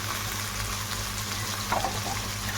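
Potatoes frying in a pan for a potato fry, making a steady, close sizzle with soft crackles and a light stirring scrape near the end.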